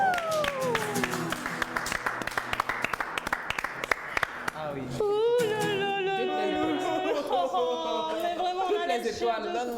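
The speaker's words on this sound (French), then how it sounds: "Et on applaudit une fois encore parce que c'est extraordinaire." Audience applause at a live music show, a burst of clapping under a singer's voice that gives way to sung vocals and music, with the crowd still faintly audible behind.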